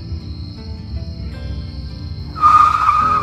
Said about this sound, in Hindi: धीरज गाड़ी रोक मुझे कुछ लेना है